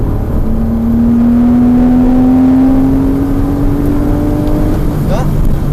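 A Porsche Cayman S engine revs up steadily at full throttle, its pitch climbing as it accelerates hard, loud and close throughout.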